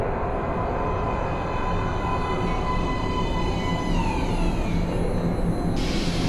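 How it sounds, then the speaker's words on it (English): A subway train arriving at an underground platform in the video game Metro: Last Light Redux: a loud, continuous rolling rumble with whining, gliding metallic tones and a sudden high screech near the end, with no voices. "Please step away from the edge of the platform. Train coming in."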